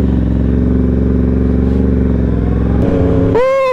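A Yamaha R1M motorcycle accelerates hard with a loud, close engine roar, then the quick shifter snaps up a gear with a brief dip before the revs climb again.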